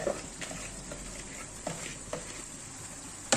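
Onions sizzle steadily in a hot pan, a soft continuous frying hiss broken by occasional scrapes and taps of stirring.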